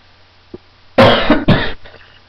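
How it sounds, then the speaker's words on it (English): Two harsh, close coughs in quick succession, loud and raspy, with a soft throat sound just before. "Sorry, I got a bad cough."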